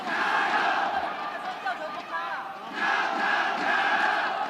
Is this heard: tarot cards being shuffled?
no